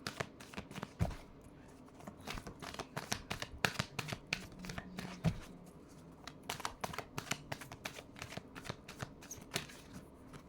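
Tarot cards shuffled by hand in a steady run of crisp riffling flicks and soft slaps, close and fairly quiet, with no talking over them.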